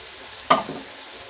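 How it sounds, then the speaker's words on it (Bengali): Paneer pieces hit hot oil for a light fry, giving a single short, bright sizzle that flares up and quickly fades back to a quiet background. "এখন পনিরগুলোকে ফ্রাই করে নেব তেলের মধ্যে।"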